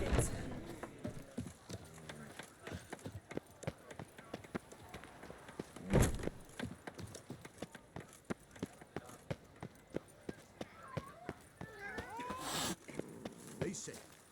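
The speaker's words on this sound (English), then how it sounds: "Aim to hop on a horse after making merry." Horse hooves clip-clopping steadily while riding in The Witcher 3: Blood & Wine, a brisk repeated patter close by under game voices and ambient background, with a louder thump midway.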